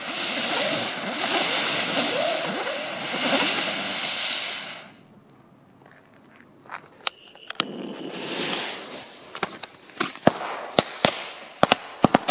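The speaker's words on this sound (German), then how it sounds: "Jetzt kommen die A-Böller." New Year's Eve fireworks hiss and crackle loudly, then after a quiet gap a string of sharp firecracker bangs (A-Böller) pops at irregular intervals, near and punchy.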